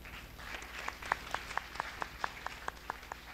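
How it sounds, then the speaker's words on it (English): A small audience applauds a hackathon team, a thin, fairly distant round of clapping with a few distinct regular claps standing out over a low room hum. "round of applause for this team"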